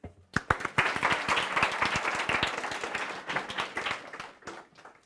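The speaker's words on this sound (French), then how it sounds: "On peut l'applaudir." Listeners applaud the speaker after his remark on compromise and being strict with God's word: sharp individual claps swell quickly into full applause, then thin out and fade toward the end.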